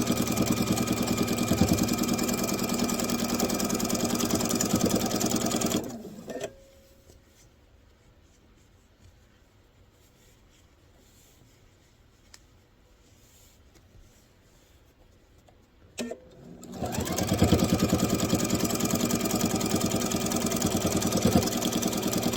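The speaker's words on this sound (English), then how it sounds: "I'm sewing it until I'm almost to my corner." A sewing machine stitches a star heart table runner in two steady, loud mechanical runs separated by a long near-silent pause, with no voices.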